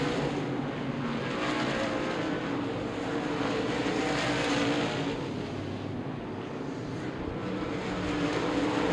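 Modified race cars circling Lucas Oil Raceway in a race, a continuous loud roar of several engines blending into a dense wash from a distance, with no break in the noise.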